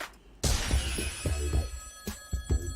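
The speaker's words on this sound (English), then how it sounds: "Okay, there's a telephone right next to us. We may as well answer the phone." A telephone rings inside the video game ToeJam & Earl: Back in the Groove, with a bright, sustained ringing tone starting suddenly and holding over a rhythmic game soundtrack.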